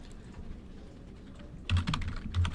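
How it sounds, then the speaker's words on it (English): Typing on a computer keyboard, a few scattered light key taps at first, then a dense close burst of rapid clicking keystrokes with a brief pause, no voices. "I'll just type underneath."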